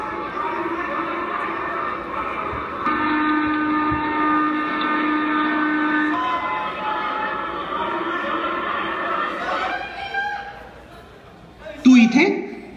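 Train whistle and rolling train sound effect played during a musical skit at a Ganapati festival stage show: a sustained, steady tonal whistle holds for about ten seconds, then trails off into a brief louder burst, with voices talking.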